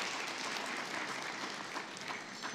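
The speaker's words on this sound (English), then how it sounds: "May we clap as they come up, please." Conference audience at an economic outlook event in Kigali clapping as speakers come up, a continuous, even wash of many hands applauding from across a large room, steady and fairly soft throughout.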